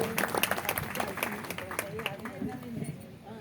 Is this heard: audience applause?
yes